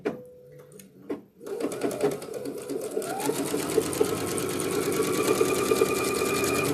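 A sewing machine chain-piecing fat quarters starts up after a few soft handling sounds, then runs in a fast, steady, close mechanical whir that keeps going to the end.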